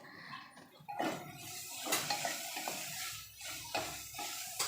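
Spices frying in a pan for a quick South Indian dish, with a soft hiss, scraping stirs and clinks of a utensil against the pan, fairly quiet and close with no talking.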